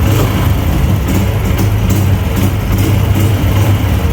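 A Yamaha YBR125 motorcycle with a butterfly carburetor runs up close under throttle, a loud, dense, continuous engine roar with a low droning hum and little audible change across the few seconds.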